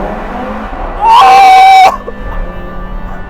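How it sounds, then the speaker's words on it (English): An Audi RS3's turbocharged five-cylinder engine roars loud and close inside a tunnel, a burst of about a second that rises and cuts off abruptly, with an excited voice shouting just after. "pray silence for 5-cylinder turbocharged noise in a tunnel"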